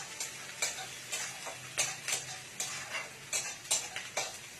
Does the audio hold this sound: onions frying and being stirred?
yes